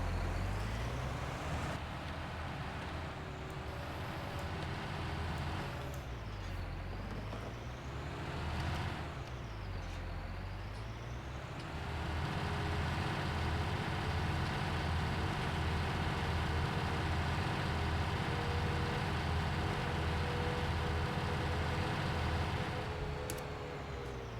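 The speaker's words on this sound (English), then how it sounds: "Don't mind the engine sound of this either. It's got quite a nice rev." In Farming Simulator 19, a tractor with a baler attached revs its engine. The drone rises and falls in pitch a few times before settling into a steadier, louder running sound.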